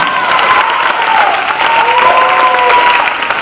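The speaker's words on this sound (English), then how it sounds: "let us clap together" Crowd applause at an MLK Jr. celebration event, loud continuous clapping close by, with a few cheers or voices mixed in throughout.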